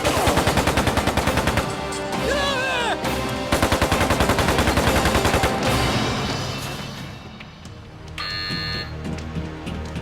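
Assault rifle gunfire rips out in rapid bursts inside a prison during a hostage takeover, loud and close, with long automatic strings broken by pauses and an electronic alarm tone sounding near the end.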